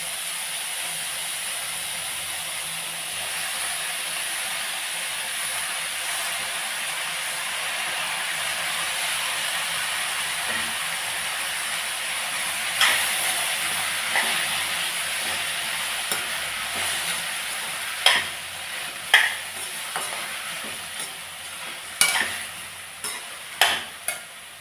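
Tomatoes frying for tomato thokku, giving a steady sizzle and hiss in the pan, with stirring scrapes and clinks growing more frequent toward the end and no voices.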